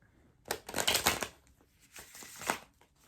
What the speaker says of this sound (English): Shuffling these cards for the new moon in Libra